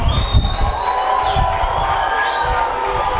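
A large arena crowd at a monster truck show cheers and shouts loudly, a sustained roar with whoops and high squeals rising over it, continuing without a break.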